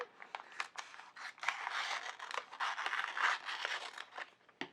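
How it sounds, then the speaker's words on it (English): Scissors snip off a small piece of transfer sheet during a Cricut print-then-cut craft project, making a quick run of close, crisp cutting and crinkling sounds with no voices. "Then I can just cut off this little piece here."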